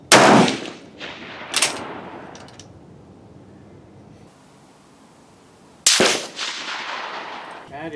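Gunshots at an outdoor shooting range, two sharp loud cracks early on and a third after a pause, each followed by a decaying echo.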